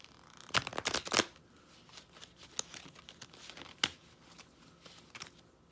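A tarot card deck is shuffled by hand, with a quick burst of riffling card flutters and then scattered softer flicks and taps, close and fairly quiet.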